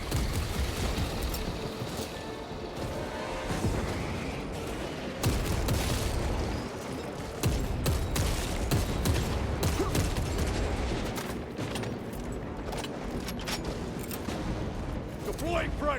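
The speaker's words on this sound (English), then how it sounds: "Frag grenade deployed." Gunfire and a frag grenade explosion in Warhammer 40,000: Space Marine 2, with sharp repeated bangs and bursts of shots among clanking mechanical noise, a dense chaotic battle mix with voices talking over it.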